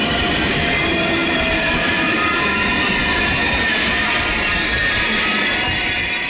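An ICE high-speed train at Köln Hauptbahnhof bound for Basel SBB rolls through with a steady, loud rumble and rail noise, faint wheel squeal mixed in, continuous throughout.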